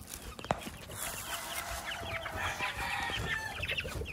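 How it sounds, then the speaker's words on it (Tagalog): Chickens in battery-type cages under banana trees cluck and murmur close by in a steady, busy stream, with a rooster-like call rising among them and a sharp knock early on. "At ito yung mga manok."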